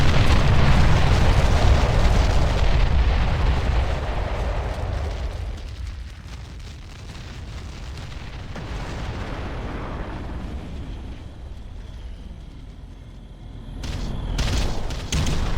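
An enemy structure blows up in the real-time strategy game Ground Control with a loud, deep rumbling blast that rolls on for several seconds, fading into a lower roar before a few sharper bursts near the end.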